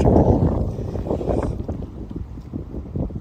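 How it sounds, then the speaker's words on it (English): Wind gusts buffet the microphone at a windy riverbank during a fishing outing, a loud, rough rumble that swells at the start and then flutters and eases off, with no one speaking. "seeing if it's a pull or if it's the wind, because it is windy."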